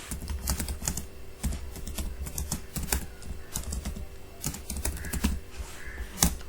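Someone types a comment in Google Docs on a computer keyboard, producing rapid, irregular key clicks and taps in quick bursts, close and clear with no speech.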